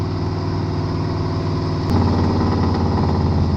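An old clunker car engine running steadily while being driven, a loud, constant low rumble with even harmonic drone that grows slightly heavier and rougher about halfway through, close and with no talking.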